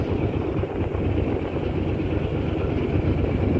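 A continuous low engine drone of a trawler boat rumbles steadily on the Sandhya River, Barisal, with wind noise and no speech.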